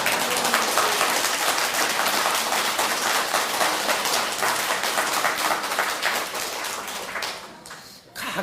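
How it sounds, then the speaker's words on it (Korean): Sustained audience applause from a crowd at a church lecture, dense steady clapping that carries on for several seconds before thinning and fading out near the end. "이 박수를 칠라면 치고 안 칠라면 안 쳐야 돼요"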